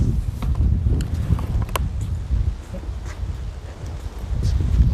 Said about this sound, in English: sorry about the little bit of wind sound